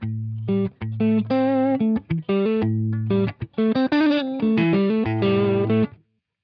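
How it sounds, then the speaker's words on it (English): Electric guitar played through a gritty, overdriven Rat-style distortion, choppy chords and single notes with brief gaps, loud and close. "Here we have a rat style distortion."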